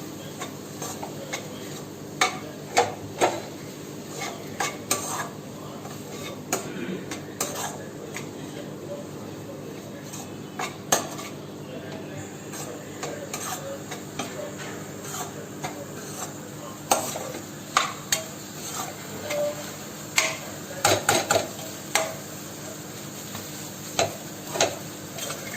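Crumbled paneer bhurji with grated paneer and coriander leaves being stirred in a pan: repeated spoon scrapes and metallic taps over a low sizzle, close and irregular, with a voice talking at times.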